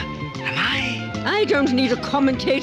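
A cat meows with rising, wavering cries close by, heard over a man's speech and a busy musical background.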